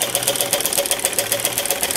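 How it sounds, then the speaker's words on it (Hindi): A sewing machine stitching a kurti for a 12–13-year-old girl hums in a fast, steady needle rhythm close to the mic, loud and continuous, with no voice over it. "इसके ऊपर से हम एक एक सिलाई भी लगाएंगे"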